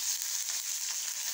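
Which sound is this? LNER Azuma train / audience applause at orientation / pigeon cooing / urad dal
urad dal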